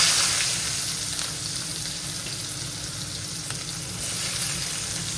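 Chopped onion sizzles and fries in plenty of hot oil in a pan, a continuous bright crackling hiss that swells slightly at the start and end, with no talking.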